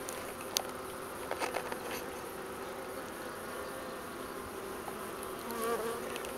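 A dense, steady buzz of many honeybees swarming close by at a hive, with a few sharper taps and ticks near the start.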